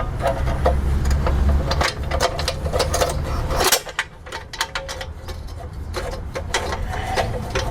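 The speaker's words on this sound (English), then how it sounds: "I just need to loosen a little screw there" A screwdriver works a small screw loose on a lock, giving faint metallic clicks and ratcheting scrapes over a steady mechanical hum, with a louder rattle midway before the background drops quieter.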